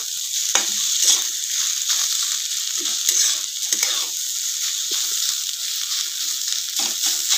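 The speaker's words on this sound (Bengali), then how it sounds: "তো আমি কিছুক্ষণ এটা একটু ভেজে নেবো" Teasel gourd frying in oil, a continuous bright sizzle with occasional stirring scrapes and clatter, close and fairly loud throughout with no talk.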